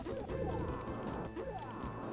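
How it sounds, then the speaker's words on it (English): Ferraris crashing in a Street Fighter hack of the Space Harrier arcade game, two harsh crunching impacts over busy electronic game music, fairly faint. "There's a lot of crashing Ferraris."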